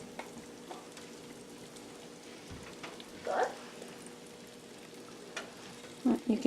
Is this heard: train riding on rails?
no